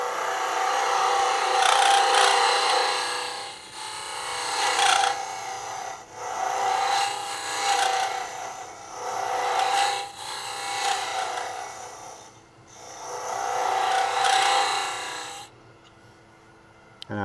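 Gouge cutting cherry wood on a lathe for a lidded box, a loud continuous scraping hiss in repeated long passes with brief dips between them, then a quieter hum as the cutting stops near the end.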